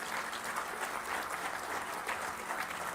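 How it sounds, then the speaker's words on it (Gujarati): Steady applause fills a discourse hall as an audience claps for a guest speaker, a dense continuous patter of many hands at even loudness for the full length with no talk over it. "સિદ્ધાર્થભાઈ માટે પાડીએ એટલી તાળીઓ ઓછી છે."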